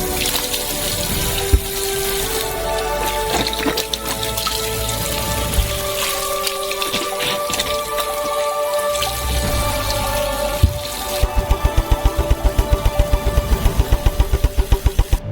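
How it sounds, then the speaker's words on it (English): Water running into a kitchen sink while oranges are washed, a steady splashing flow with clattering knocks and a rapid rhythmic tapping toward the end, close and without talk. "And each orange needs to be thoroughly washed."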